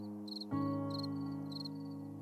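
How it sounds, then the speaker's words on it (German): A cricket chirps in the background of the survival game 7 Days to Die, quiet rhythmic trills repeating about three times over a low steady hum that rises after a soft thud. "Diese Grille im Hintergrund ist geil."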